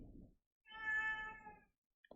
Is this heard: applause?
no